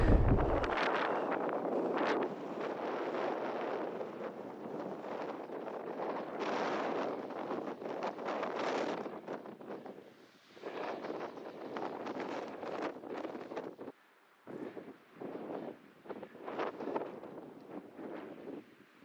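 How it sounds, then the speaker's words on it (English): Strong mountain wind in the Ruby Mountains, Nevada, buffets the microphone in loud, continuous gusts, roaring steadily with brief lulls and no voices. "It's really windy now."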